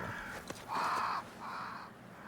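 Two harsh caws from crows in the video game Banishers: Ghosts of New Eden, fairly close and clear against a soft ambient backdrop.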